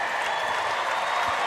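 A sold-out crowd roars and applauds at Gonzaga's Kennel during a women's basketball game against UC Irvine, a dense, steady wash of cheering and clapping that fills the arena throughout.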